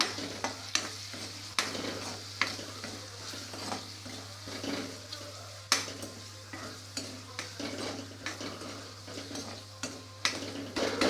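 Chopped onion frying in a pan while being stirred, with steady sizzling broken by frequent scraping and clattering strokes against the pan, fairly close, no talking.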